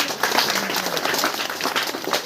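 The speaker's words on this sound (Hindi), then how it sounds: "बहुत अच्छा, जोरदार तालियां इनके लिए।" Applause at a girls' fair on women's empowerment in Paldi Siddha, Jodhpur, with an audience clapping briskly in a loud, dense patter that holds steady throughout.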